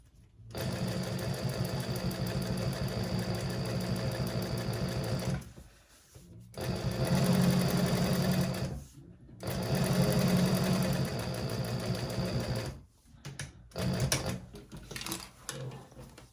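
A sewing machine top stitches handbag lining with cork at a long stitch length, whirring loudly and close in several sustained runs separated by short pauses.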